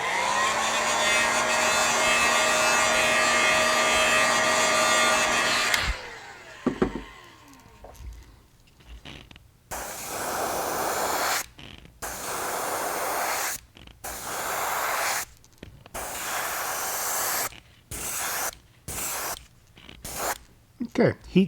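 A heat gun blows steadily and loudly for about six seconds to set gold airbrush paint on a Golden Shiner fishing bait, then gives way to short spraying bursts of an airbrush with brief gaps between them.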